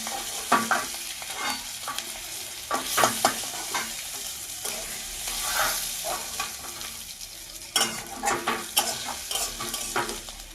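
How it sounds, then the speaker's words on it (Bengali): Pieces of chicken sizzle steadily in hot oil while a utensil stirs and scrapes the pan in repeated bursts. "এরকম করে আমি সব চিকেনগুলো ভেজে নিচ্ছি"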